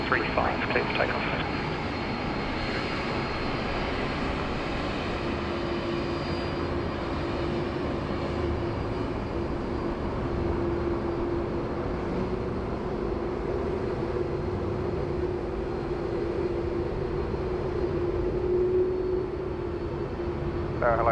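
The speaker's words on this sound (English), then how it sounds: "Qantas 11 heading 335, clear for takeoff." A Qantas airliner taking off at Sydney Airport gives a steady, sustained engine roar that fills the whole stretch at even loudness, with a faint tonal whine, and no talk.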